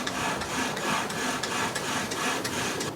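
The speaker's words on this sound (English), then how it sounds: "Just cutting a notch in." A notch is cut into wood for a friction fire on a tropical island, a steady scraping rasp repeating in quick close strokes with no talking.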